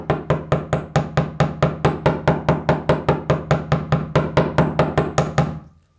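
A hammer taps wire flat on a metal bench block for a cuff bracelet, giving about two dozen sharp, evenly spaced strikes at a steady quick pace, close up and alone, before it stops.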